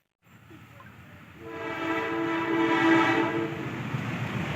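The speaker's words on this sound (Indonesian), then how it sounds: "Yang sedang melintas ini adalah kereta api Argo Anjasmara, relasi Pasar Turi sampai dengan Jakarta Gambir." Argo Anjasmara passenger train passing through a station in East Java, its horn sounding a long, loud, steady tone over a swelling rumble of wheels and rolling cars.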